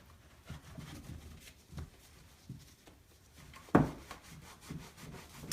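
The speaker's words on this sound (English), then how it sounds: "Just the more you rub, the lighter it's going to get." Rubbing a painted wood cabinet to lighten and distress its finish: soft, repeated scuffing strokes at close range, faint and low, with one sharper knock partway through.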